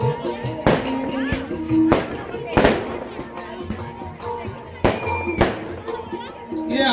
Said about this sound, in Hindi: ये आतिशबाजी का पहला दौर है, इसके बाद एक और होगा।